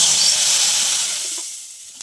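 A tempering of mustard seeds, cumin and turmeric in hot oil: a loud, close, hissing sizzle that slowly fades over two seconds, heard alone.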